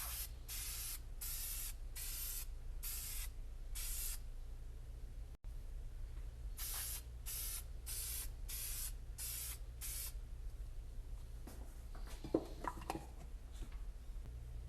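White Dupli-Color vinyl and fabric paint sprayed from an aerescol can in a series of short, even hissing bursts, about a dozen light passes with brief pauses between, quiet and close with no talk.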